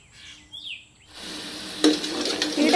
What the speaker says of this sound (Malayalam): ഇനി ഇതൊന്ന് വറ്റിച്ച് വെളിച്ചെണ്ണയാക്കി എടുക്കട്ടെ.